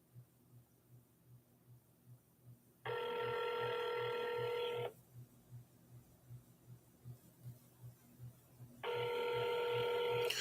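A telephone ringback tone on an outgoing call to a house in Lago Vista, Texas, sounding in two loud rings, each about two seconds and six seconds apart, over a steady low pulsing hum.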